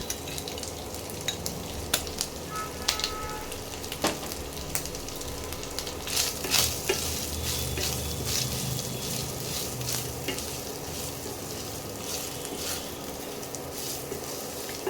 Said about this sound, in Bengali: এবার দেব পোস্ত। পোস্ত দেব 2 চামচ।